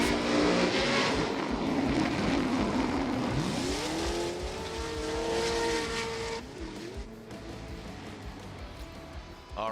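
A Formula Drift car engine roars and revs as tires squeal through a slide at Atlanta in 2024, loud and close, then the engine note drops away toward the end.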